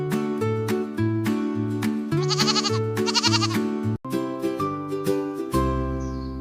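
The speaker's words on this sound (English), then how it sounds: "A baby goat is called a kid." A goat bleats repeatedly in short, quavering calls at a steady rhythm, close and clear, with no speech over the animal.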